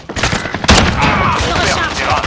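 Video game gunfire rattles in dense bursts aimed at the player, with a sharp loud report and continuing rapid shots, loud and close, mixed with a voice speaking.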